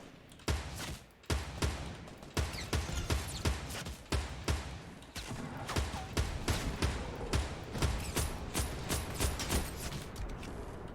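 Rapid bursts of gunfire from a shooter video game, sharp repeated shots in quick clusters and steady volleys that carry on loudly for the whole stretch with no voices over them.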